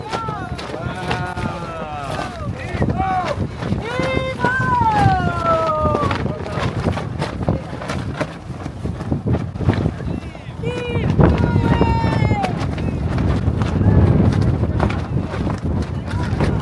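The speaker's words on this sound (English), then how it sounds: "The wind." Strong ocean wind on Cape Cod roars steadily into the microphone, loud and continuous, with people talking and exclaiming over the rushing buffeting noise.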